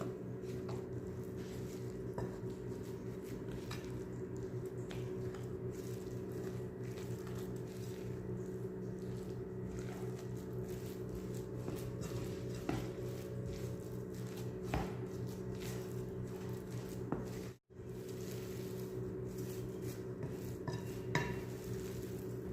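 A spoon stirs tuna ball mixture of flour and baking powder in a bowl, soft repeated scraping and tapping over a steady low hum, quiet and close.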